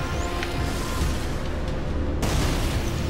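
A loud, booming explosion as a tank is destroyed in the Tron: Evolution video game, with a dense roar that holds steady throughout and shifts partway through as a bright hiss cuts in.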